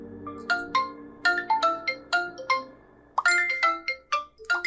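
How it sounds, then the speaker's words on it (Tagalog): A cellphone ringtone plays, a bright melodic sequence of quick electronic notes in two phrases separated by a brief pause, loud and close with no talking. "biglang tumunog ang kanyang cellphone"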